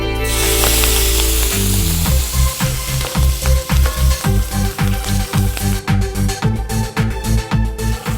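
Cashews and curry leaves frying in hot oil in a pan, a steady loud sizzle with rhythmic scraping as they are stirred again and again, close up with no voices.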